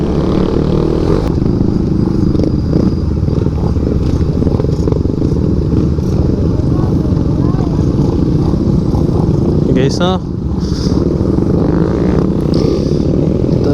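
Several Suzuki Raider 150 motorcycle engines rumble loudly and steadily together on a group ride, a continuous revving drone with a brief voice calling out over it.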